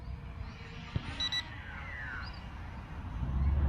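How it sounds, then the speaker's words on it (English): Two quick high electronic beeps, a low-voltage warning from an F198 MAX brushless drone, sound close together amid a soft whirring hum, followed by rising motor noise. "There's a double beep then, so what's that mean? Probably LVC."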